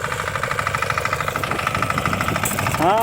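A power weeder engine chugs steadily as it ploughs a field being readied for chilli planting, its fast regular knocking pulses close and loud throughout, rising briefly near the end.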